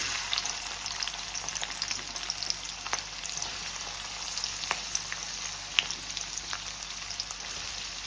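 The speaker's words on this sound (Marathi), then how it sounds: "कांदो आतां बरो तळसून घेता" Onion fries in hot oil in a pan for a Goan-style clam sukha, a steady crackling sizzle with small pops throughout, no voices.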